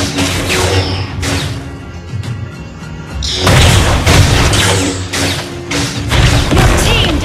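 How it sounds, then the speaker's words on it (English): A turret blows up in the Mobile Legends video game, a heavy booming crash that swells loudly midway through a busy mix of battle effects, with no talking. "Your team destroyed a turret."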